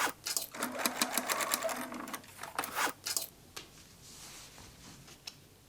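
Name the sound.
sewing machine top stitching a denim jeans strap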